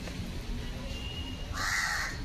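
A crow caws loudly a couple of times over steady outdoor background noise, the harsh calls coming close and clear toward the end.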